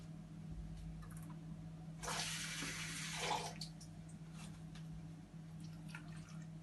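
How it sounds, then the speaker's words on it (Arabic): A small splash of water poured into a jar of turnip pickle in a home kitchen, a short soft gush lasting about two seconds over a faint steady hum, with no talking. "هزود بس شويه ميه صغيره."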